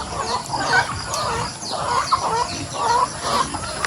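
Several chickens cluck inside a chicken house on a small farm, with repeated bursts of clucking and squawks close to the microphone, steady over a low background hum.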